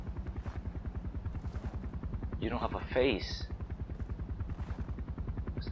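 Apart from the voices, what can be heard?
helicopter in the video game Far Cry 4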